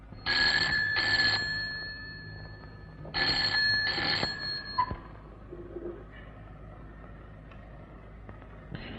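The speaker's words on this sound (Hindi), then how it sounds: "हेलो परेरा, तुम्हें 50 दफा बोला यहां पे फोन मत किया करो" Telephone ringing in an office scene of a Hindi film, two long bursts of trilling rings separated by a pause, loud and close, followed by quieter room sounds and a click.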